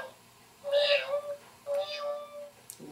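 A person imitates a cat's meow, giving two drawn-out mewing calls with a short pause between them, close and clear against a quiet room.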